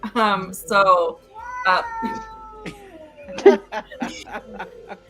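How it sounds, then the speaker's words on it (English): Two cats in a home that dislike each other squabble, with drawn-out yowls and growls rising and falling in several close, loud bursts. "if you can hear the hissing in the background"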